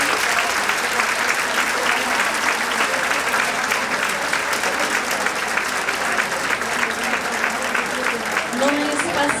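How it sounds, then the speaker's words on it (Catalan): Loud, sustained applause from a crowd of guests at a women's dinner in Tavernes, steady clapping filling the room without a break from start to finish. "els demane que es feu un fort aplaudiment perquè no és fàcil"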